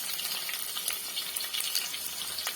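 Green chillies sizzle and crackle steadily in hot oil in a pan while being stirred, a continuous close frying hiss with small bursts, for a Tamil sundal puli kulambu.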